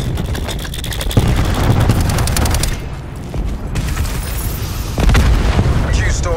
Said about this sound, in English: Grenade. Enjoy.